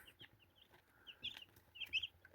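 Soft, repeated clucking and peeping from a small flock of young crested chicks, moderately close, with short high chirps scattered through the clip.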